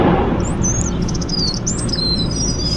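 Birds from a large flock at a rice plant chirp and tweet in short high calls, moderately distant, over steady loud low-pitched outdoor rumble.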